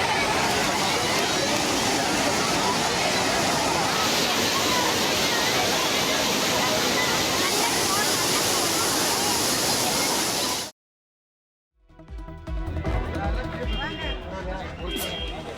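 Water pours over the Kodiveri dam like a waterfall where tourists bathe, a loud, unbroken roar for about ten seconds before it cuts out abruptly and other sound follows.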